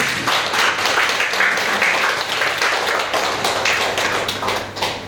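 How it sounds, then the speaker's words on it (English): Audience applause welcoming a visiting Buddhist monk at a Dharma talk, brisk and steady clapping at close range that carries on evenly before tapering slightly at the end. "A round of applause."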